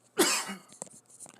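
A single sharp cough bursts out close up, followed by a few faint breathy sounds and small clicks.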